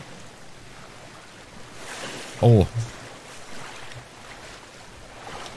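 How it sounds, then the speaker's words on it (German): Ocean waves wash in the survival game Sons of the Forest, a steady, soft rushing of surf and wind, with a person briefly exclaiming partway through. "Oh scheiße, wir sind im Ozean."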